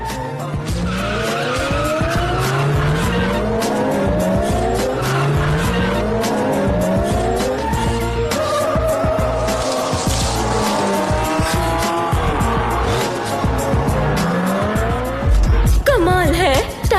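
A taxi races through a circuit, its tires squealing in long, repeated skids through the turns while the engine roars close and loud throughout, ending in a final sharp burst.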